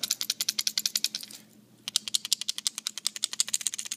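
A Vagabond BKN lipless crankbait lure is shaken close up, its internal rattle producing rapid, evenly spaced clicking bursts with a brief pause midway before the steady rattling resumes.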